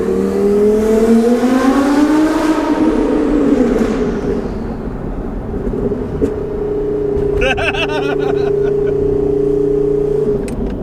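A Porsche 991 GT3 RS engine accelerating under a bridge at partial throttle, loud and close, its rising engine tone climbing steadily and then holding a steady drone with echoing reflections.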